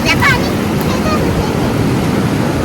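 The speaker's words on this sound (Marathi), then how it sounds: "लाटा लाटा खूप जोरात येत आहे." Strong ocean waves at a beach make a loud, continuous roar mixed with wind buffeting the microphone, and a brief voice or shout is heard near the start.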